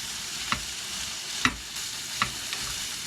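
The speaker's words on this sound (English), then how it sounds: "Fry up some Spam." Spam frying in a pan, a soft continuous sizzle with a few sharper pops or stirring scrapes spaced about a second apart, close but quiet.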